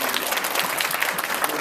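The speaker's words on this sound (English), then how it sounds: "Please give her a round of applause" A short burst of audience applause at a motivational speaking event, many hands clapping in a dense, even patter at moderate loudness, with no pause.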